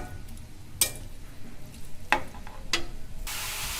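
Shredded cabbage frying with a hilsa fish head for a Bengali ghonto, giving a faint, low sizzle with a few soft stirring scrapes and a brighter hiss near the end.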